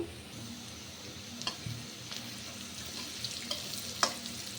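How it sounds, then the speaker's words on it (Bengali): Shrimp, green chili and onion fry in oil in a wok with a constant, fairly quiet sizzle, and a few sharp ticks and scrapes from stirring rise above it. "কড়াই বসিয়ে দিচ্ছি আর এর মধ্যে তেল দিচ্ছি আর দিচ্ছি কাঁচামরিচ, পেঁয়াজ আর চিংড়ি মাছ।"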